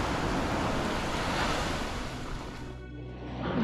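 Pacific Ocean surf off Maui, Hawaii: a steady, broad wash of breaking waves mixed with wind buffeting the microphone, loud and continuous, easing slightly toward the end.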